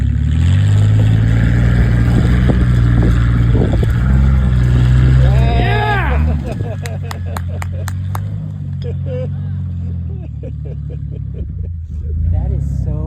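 A lifted Subaru on bigger tires drives off-road during the SoCal Gambler 500, its engine revving loudly up front and then settling into a lower drone with scattered clicks and rattles, while voices are heard.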